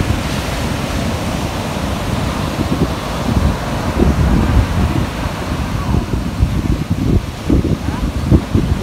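Sea breeze blows across the beach at Puri, rumbling and buffeting steadily, with the low roar of surf beneath and occasional stronger gusts.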